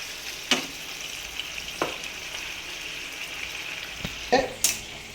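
Black pepper sauce bubbles and sizzles softly in a pan, a steady quiet frying hiss broken by a few sharp clicks of stirring.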